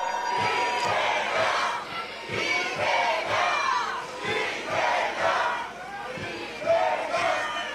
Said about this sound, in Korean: 이재명 대통령 후보의 연설 큰 함성으로 들어보겠습니다.